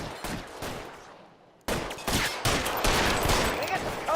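A gunfight plays out during a police shootout in the video game L.A. Noire: rapid, loud bursts of gunfire, sometimes overlapping and clustered, with a short lull before a denser volley.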